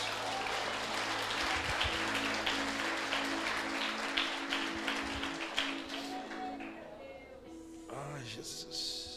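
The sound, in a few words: audience applause in church service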